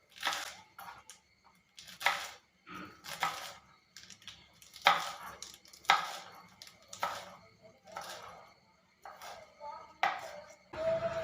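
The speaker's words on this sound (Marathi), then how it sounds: "तुम्ही बघू शकता या पद्धतीने आपल्याला पालक चिरून घ्यायचा आहे" A knife chops spinach leaves into large pieces on a board for crispy spinach fritters, giving a steady series of sharp, close cutting knocks, about a dozen in irregular rhythm, with quiet pauses between.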